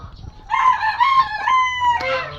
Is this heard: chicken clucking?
yes